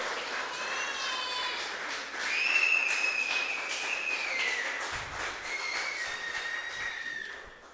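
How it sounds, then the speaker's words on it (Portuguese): Church congregation at a Sunday worship service applauding as they sit down, a broad wash of clapping mixed with a high sustained whistle-like tone and crowd noise. "Pode se sentar aplaudindo o Senhor Jesus"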